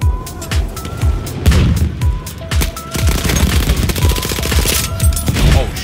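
Rapid machine-gun fire and scattered gunshots from the First World War shooter game Battlefield 1, loud and close, in repeated staccato bursts with booming impacts over a dense battlefield din.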